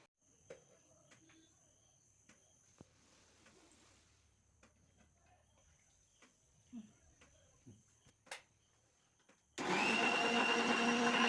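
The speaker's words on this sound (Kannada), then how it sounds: "ಮಿಕ್ಸಿದು ಜ್ಯೂಸ್ ಹಾಕ್ಬೇಕು" Crickets chirp softly in a quiet room over faint scattered knocks. Then a mixer grinder suddenly starts blending guava juice, close and loud, and runs steadily for the last couple of seconds.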